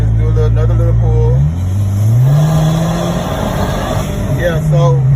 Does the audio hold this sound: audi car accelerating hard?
yes